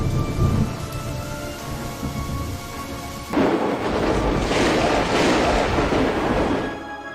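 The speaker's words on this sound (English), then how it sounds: "The raging storm swallowed the sky in darkness and swept away everything" A raging thunderstorm brings heavy rain, with a dense, roaring downpour and deep thunder rumbling throughout, swelling louder and broader midway and sustained until the end.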